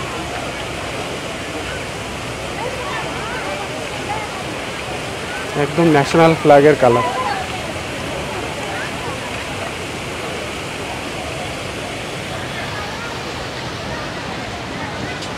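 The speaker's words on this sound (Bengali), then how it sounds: "একদম কাছে চলে এসেছি ঝর্ণা।" A fountain at India Gate in New Delhi at night, a loud continuous splashing rush of falling water heard up close, with a person speaking briefly midway.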